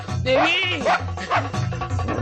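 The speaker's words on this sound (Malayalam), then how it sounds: "പട്ടിയായിരുന്നു." A dog in a Malayalam comedy film scene gives a few sharp barks and whining yelps close by, mixed with excited voices.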